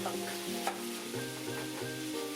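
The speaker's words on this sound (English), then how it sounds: "add the chopped onion and minced garlic and sauté it for 2 minutes until translucent" Chopped onion and minced garlic sauté in a paella pan, a soft steady sizzle heard close and quiet, with gentle stirring and no talk.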